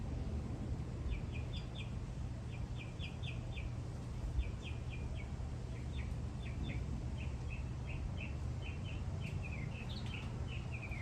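Repeated bright chirps from small birds in quick bursts, moderately distant, over a steady low outdoor rumble during a hot yoga session.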